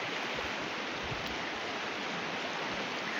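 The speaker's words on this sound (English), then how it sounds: "this place is very noisy because of water" Loud, steady rushing of water at a gorge in Murang'a, a dense continuous roar filling the whole span with no other sounds rising above it.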